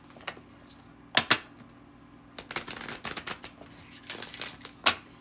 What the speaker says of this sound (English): Gonna shuffle.